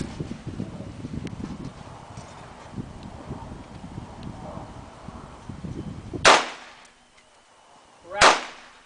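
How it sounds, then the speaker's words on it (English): Two sharp, loud AR-15 rifle shots fired at targets, spaced about two seconds apart, each followed by a brief decay, after a stretch of low outdoor background noise. "Which one am I shooting at?"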